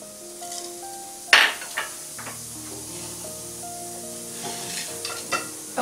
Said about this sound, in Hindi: तेल गरम हो चुका है। अब हम इसमें जीरा डालेंगे।